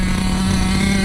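An OFNA Ravenger 9.5 nitro RC car engine running lean near the bottom of its fuel tank, idling with a loud, steady, buzzing drone throughout.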